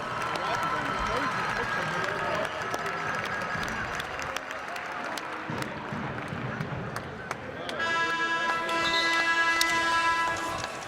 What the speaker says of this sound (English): let's give Erin a big round of applause